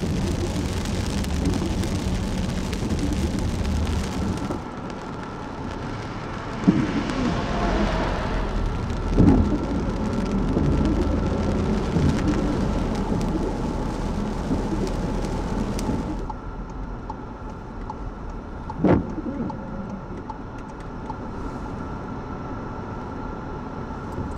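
Steady rain and wind outdoors in Glencoe, Scotland, a dense continuous wash of noise with a few brief louder gusts or knocks, fairly close and with no one speaking.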